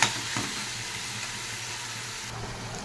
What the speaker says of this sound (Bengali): বাঁধাকপিটা দিয়ে দিলাম, নাড়াচাড়া দিয়ে ধনে পাতা দিয়ে নামিয়ে দেবো